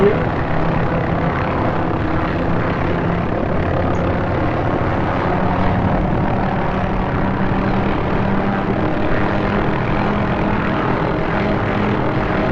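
Hughes OH-6A light helicopter in the DCS flight simulator, its engine and rotor droning steadily and loudly at full throttle, a constant even hum with no pauses and no talk.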